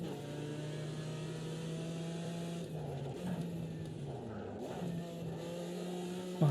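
A race car engine in Automobilista 2 holds a steady drone, then rises and dips in short throttle blips during downshifts, with a sharp rev at the end.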